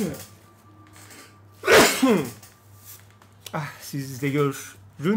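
A single sharp sneeze bursts out, loud and close, followed by a few words of speech over a steady low hum.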